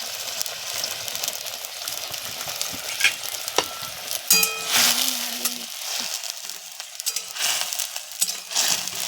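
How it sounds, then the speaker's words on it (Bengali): Spices frying and being stirred in a pan, a close sizzle with scraping clatter and a few sharp metallic knocks, the hiss rising and falling through the stretch with no talk. "একটু ভেজে নিচ্ছি"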